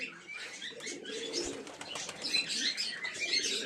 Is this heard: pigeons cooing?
yes